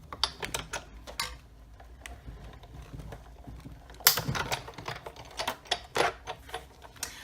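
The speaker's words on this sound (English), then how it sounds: "now I'm just going to run this through my Big Shot" A Big Shot die-cutting machine cuts paper pieces for a handmade card, giving a steady run of dry mechanical clicks and rattles with a louder grinding stretch partway through, close and without talking.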